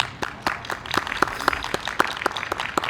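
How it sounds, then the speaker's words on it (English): A crowd at a pre-K playground ribbon-cutting claps for a young band, a brisk burst of many hands close by, ragged and dense for a few seconds. "Let's give them a round of applause, everyone"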